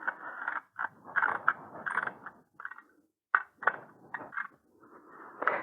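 A wrench ratchets and scrapes while tightening the headlight bolt on an Ariel Rider X-Class 52V e-bike, in short close bursts of rasping clicks separated by brief pauses.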